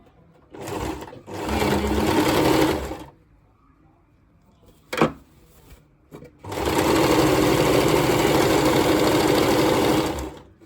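A sewing machine stitches a churidar pant in two loud, steady bursts, about two seconds and then four seconds long, with a quiet pause and a sharp clunk between them.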